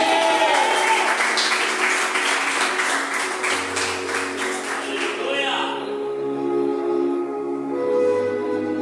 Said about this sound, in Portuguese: Se a igreja crê desta forma, diga amém, aplauda Jesus